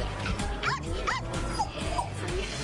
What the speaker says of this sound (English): Eden has her own pup.